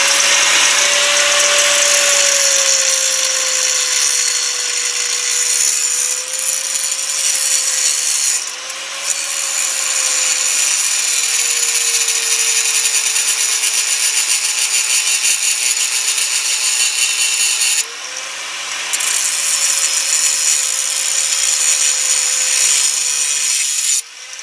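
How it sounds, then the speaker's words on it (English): An angle grinder cuts through a metal piece with a loud, steady, high-pitched whine that holds for a long stretch, dipping briefly twice as the tool shifts, with no talking. "take your grinder out and cut this thing right off"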